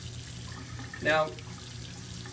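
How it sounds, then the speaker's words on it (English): Water from a tap runs briefly over a razor as the foam is rinsed off, a short splashing burst under steady background noise; someone speaks a word just before. "you got a lot of foam on that, so you want to rinse your razor"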